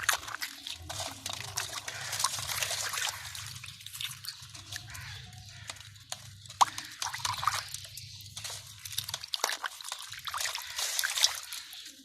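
Egg shells are washed by hand in water, giving irregular drips, trickles and small sloshes near and fairly quiet over several seconds, with a low hum under the first part and no speech.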